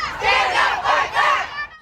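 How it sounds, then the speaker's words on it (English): Abortion rights protesters in downtown Cincinnati shout together as a crowd after the Supreme Court overturned Roe v. Wade, in three loud rising and falling waves of massed voices, close and continuous. "Abortion rights supporters gathered in downtown Cincinnati after the decision to have their voices heard"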